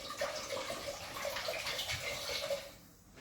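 Half a litre of vinegar poured into a pan for homemade relish, a steady close splashing pour that tapers off near the end.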